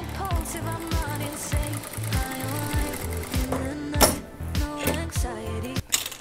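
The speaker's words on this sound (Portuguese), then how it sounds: "Passo uma costura, depois a outra do ladinho, bem rente." A sewing machine runs in short, rhythmic bursts, stitching seams on a boiled-wool coat with a fast mechanical chatter, pausing between runs with a few small clicks and knocks nearby.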